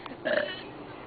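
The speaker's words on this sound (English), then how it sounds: "You burped too" A short, fairly loud burp bursts out mid-clip from a child, preceded by a faint small sound and followed by quiet room noise.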